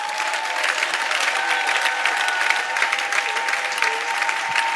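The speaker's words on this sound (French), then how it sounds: "je vais nous prier de donner une pluie d'acclamations à notre Seigneur" Steady, dense applause from a gospel event crowd fills the whole stretch, loud and even, with a faint tonal hum running beneath the clapping.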